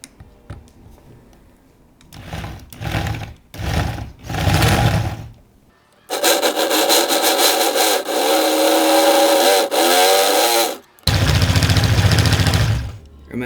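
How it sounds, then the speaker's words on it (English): A drill bores through the metal tube of a toddler drum kit's cymbal stand using a masonry bit, running in several short bursts and then longer steady whines, loud and close with pauses between passes. "Remember, we're drilling metal, so go slowly."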